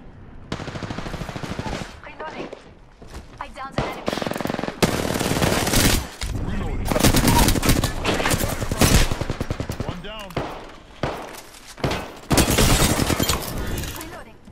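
Sustained automatic weapon fire from an Apex Legends match, rapid bursts and volleys stacking one after another across the whole stretch, loud and close, with brief lulls between sprays.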